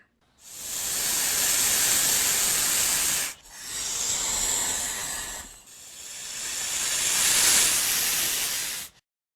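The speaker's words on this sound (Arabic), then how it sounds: "ثعبان." Snake hissing in three long, loud, breathy bursts separated by brief pauses, close and alone.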